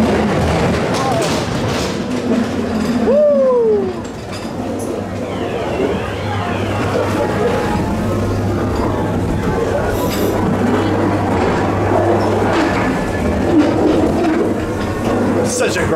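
Blackpool Pleasure Beach ghost train car rolling along its track, rumbling and clattering with a squealing wheel and spooky effects inside the dark ride, while riders talk and shout over it.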